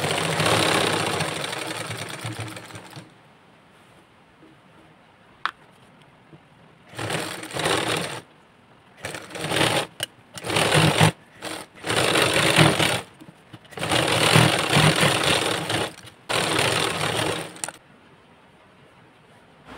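A sewing machine stitches an embroidered blouse in short, close bursts of rapid mechanical whirring separated by quiet pauses, starting with one longer run.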